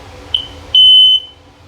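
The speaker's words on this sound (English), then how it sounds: "I got a battery dying in one of my smoke alarms, and it keeps beeping in my video." A smoke alarm with a dying battery gives a short chirp, then a louder, sustained high-pitched beep lasting about half a second, piercing and close by.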